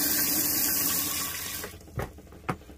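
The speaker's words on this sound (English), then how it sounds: "Got full running water," Water from the tap of a large sink in a campervan, a steady close hiss of flow that shuts off after about a second and a half, followed by two faint knocks in the quiet.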